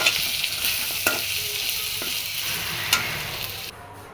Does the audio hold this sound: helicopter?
no